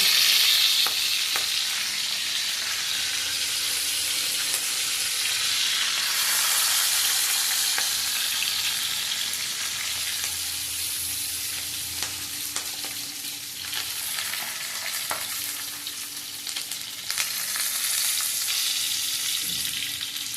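Tomatoes and other food frying in a pan for a home-cooked lunch, a steady loud sizzle with occasional stirring scrapes running throughout, no talking.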